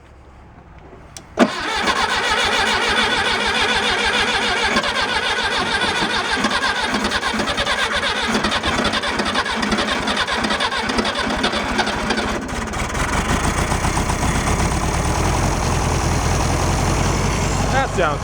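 A 1966 VW Beetle engine with its valve cover refitted cranks and catches with a sudden burst, then settles into a loud, steady, rattly idle that runs on close to the microphone.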